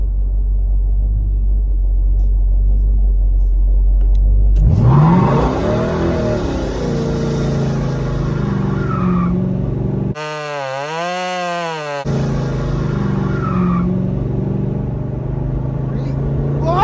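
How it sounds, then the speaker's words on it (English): A Pontiac GTO engine revs hard and roars steadily during a burnout, with a brief rising whine of spinning tires, loud and close throughout. "Listen to this car, it's tight."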